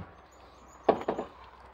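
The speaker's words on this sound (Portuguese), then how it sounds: "Vamos abrir aqui a porta." A Chevrolet Corsa's car door, damaged at the hinge area, is opened with a short latch click followed by a couple of creaky mechanical clunks, close by in a quiet space with no talking.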